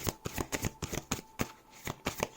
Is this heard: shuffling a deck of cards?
yes